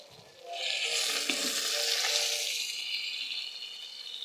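Big glass carp fish frying with onion and garlic in a pan on an induction cooker, giving a steady, close, bright sizzle that swells after a quiet start and holds without talk.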